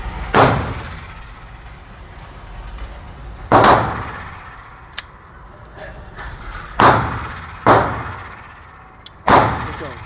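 Five loud, sharp gunshots from a Smith and Wesson 380 EZ pistol at an indoor range, fired close by at uneven intervals of about three seconds, each ringing out briefly over a steady background hum.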